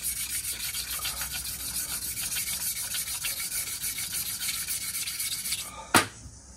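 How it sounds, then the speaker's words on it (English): Sharpening stones rubbed back and forth over a worn rotary engine part to flatten it, a steady close scraping rasp with a rhythmic stroke pattern throughout, ending in one sharper knock. "you can now you see with the stones just to make everything flat"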